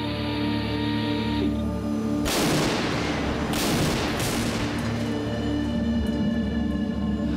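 T-14 Armata tank cannon fired at night, a single loud broadband blast after a steady idling engine hum, followed by a long rumbling decay and echoing reverberation.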